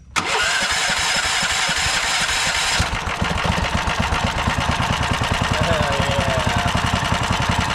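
A 420cc small engine fitted with a big turbo cold-starts with a rough cranking burst, then settles into a loud, fast, steady idle that runs a little rich and chugs evenly close to the microphone.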